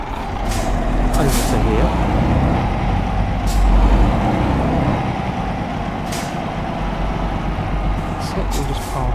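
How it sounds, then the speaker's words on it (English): A truck in Euro Truck Simulator 2 rumbles steadily up close, with several short hissing air brake bursts scattered over the engine drone while someone talks throughout. "Start the engine back up."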